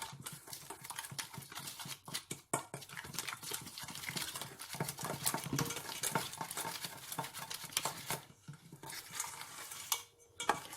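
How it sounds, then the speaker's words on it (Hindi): Chicken being mixed with a tablespoon of lemon juice in a bowl for oven-roasted chicken: steady wet squelching and stirring with frequent spoon clinks against the bowl, close and continuous, with no talking. "अब इनको अच्छी तरह मिक्स करेंगे।"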